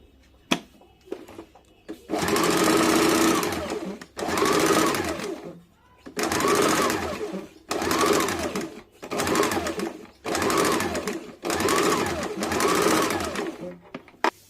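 A sewing machine stitches a folded 1.5-inch blouse strip in a series of about seven loud, steady bursts, each lasting a second or so and separated by short pauses.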